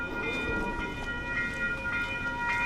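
A train waiting at a level crossing during a Pokémon GO event, heard as a steady rail rumble with sustained tonal whine and faint clatter, moderately close and continuous.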